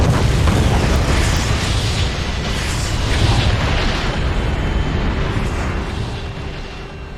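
Spaceship weapons and explosions in the space video game EVE Online, a dense, continuous roar of booming blasts and gunfire rumbling loudly throughout with no pauses or voices.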